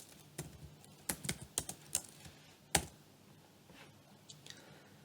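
Computer keyboard typing Python code, a quiet irregular patter of individual key clicks with a brief flurry and one louder tap, no talking.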